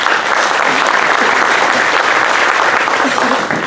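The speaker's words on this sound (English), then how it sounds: "I'll give him a round of applause right now" A dense, loud wash of applause fills an awards banquet room in a sports club, steady and continuous throughout, with faint voices mixed into the crowd.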